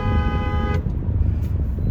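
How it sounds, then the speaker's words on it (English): A car horn gives one sustained honk, then street traffic rumbles on alone in a steady low roar. "Traffic."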